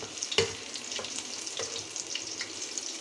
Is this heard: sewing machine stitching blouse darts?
no